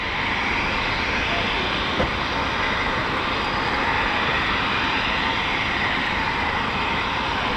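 A Eurofighter Typhoon FGR4 jet making a high-speed flat pass at RAF Coningsby, heard as a steady, loud, broad engine roar that holds evenly throughout with no voices over it.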